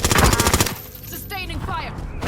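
Rapid automatic gunfire in the video game Call of Duty Modern Warfare, a loud close burst of rhythmic shots that cuts off after under a second, followed by a game voice speaking.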